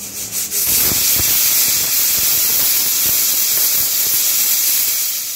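Steam hisses hard and loud from a pressure cooker of masala khichdi, with a steady bright rush after a few short initial bursts and no voices.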